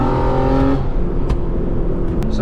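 Infiniti G35 with a blown head gasket, driving on the road toward a gas station; a steady, loud engine hum and rumble with a droning harmonic tone that fades after the first second, plus a few brief clicks.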